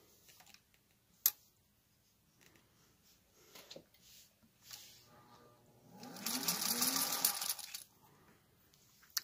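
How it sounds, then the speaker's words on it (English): A sewing machine stitches a diagonal seam corner to corner across a placemat: a few faint clicks and handling taps, then a loud, fast whirring run of stitching that stops abruptly. "So I'm going to sew from the top left corner to the bottom right corner."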